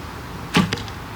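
A single arrow is loosed from a recurve bow while bare shafts are tuned for a hunting setup, a sharp close snap and whoosh with a faint second tap just after, heard alone with no voices.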